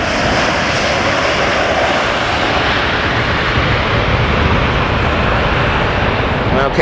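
Airliner coming in to land on the north runway at Los Angeles International Airport (LAX), a loud, continuous engine roar with a broad rushing sound that holds steady throughout.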